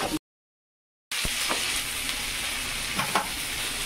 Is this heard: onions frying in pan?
yes